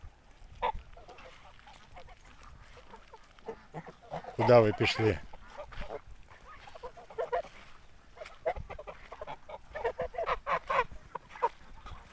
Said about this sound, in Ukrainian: Тут такі пару гусачків є.